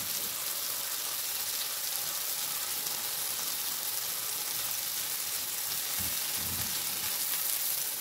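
Adana kebabs browning in a hot pan, an even, steady sizzle of frying meat held close and constant, with a couple of soft knocks near the end and no talking.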